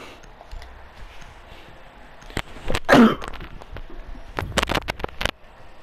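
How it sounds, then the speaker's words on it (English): A single loud, close sneeze bursts out midway, followed by a few scattered sharp clicks and rustles in a quiet room. "I've been trying to hold in the sneeze all day in school"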